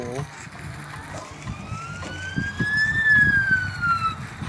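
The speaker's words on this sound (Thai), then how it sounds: "รถดับเพลิงมาแล้ว" A fire truck siren wails in the Theo Town city-building game, a rising and falling electronic tone sweeping up and then down, steady and fairly loud over low background game noise.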